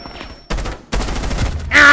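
Rapid gunfire rattles through a multiplayer shooter, two sharp bursts of close, loud rounds separated by brief pauses, ending in a harsh louder blast.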